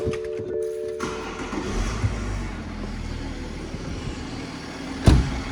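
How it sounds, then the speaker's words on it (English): A BMW X5 3.0D diesel cranks and catches after a brief whirring starter, settling into a low, rough idle rumble up close, with a sharp thump near the end. "In fact, let's start the car."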